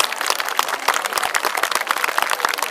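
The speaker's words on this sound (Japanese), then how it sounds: "今一度大きな拍手をお願いいたします" A festival audience gives loud, steady applause after a local junior high school brass band's opening performance, with dense overlapping claps throughout and no talking.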